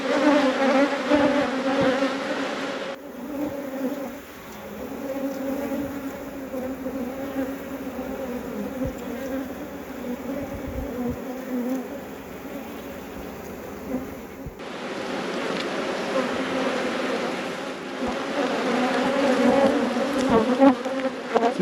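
Honey bees swarm around an open beehive, giving a dense, continuous close buzzing drone that holds steady throughout with slight swells.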